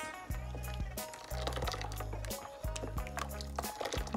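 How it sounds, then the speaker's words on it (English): A spoon stirs homemade pineapple ginger root juice with sugar, giving close, quiet liquid swishes and repeated light clinks against the container in an uneven rhythm. "I'm just stirring with my spoon to blend the sugar in"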